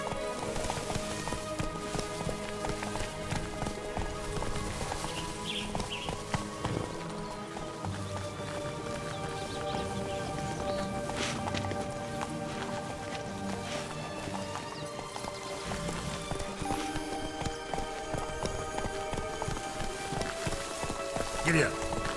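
Roach the horse gallops in The Witcher 3, hooves pattering in a steady, rapid clip-clop throughout, with game music and some voice activity layered over it.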